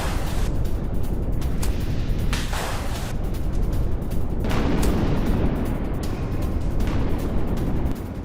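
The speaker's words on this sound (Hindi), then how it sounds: "रूस ने टैंक से यूक्रेनी पोस्ट पर कैसे गोले दागे" Tank shelling of a Ukrainian military post, heard as dense, continuous rumbling gunfire and blasts with several sharper booms standing out, loud and unbroken throughout with no talking.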